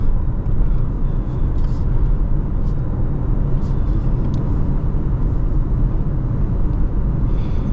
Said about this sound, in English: the only noise that comes in the cabin is just wind noise